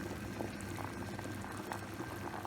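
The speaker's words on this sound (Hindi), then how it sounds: "देखिए कितने अच्छे से हमारे चावल पक रहे हैं।" Rice simmers in an uncovered pot on a stovetop burner, giving a steady, close bubbling and soft popping that runs evenly throughout with no voices.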